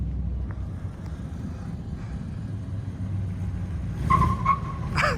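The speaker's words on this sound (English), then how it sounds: "when you're trying to give it gas, it does not move until it moves, and then you get wheel spin" A car spins its wheels as it accelerates, with a low engine rumble building steadily before a brief squeal of tire spin near the end.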